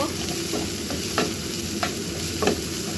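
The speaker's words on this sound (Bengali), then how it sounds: "এখন আমরা একটু নেড়ে দিব" Wonton filling sizzles and fries in a pan while it is stirred, a constant close hiss broken by a few sharp scraping clicks from the utensil.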